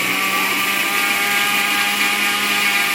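Kitchen mixer grinder blending milk powder, sugar and melted ghee for homemade white chocolate, a loud, steady whirring motor hum close by that runs without pause, no speech.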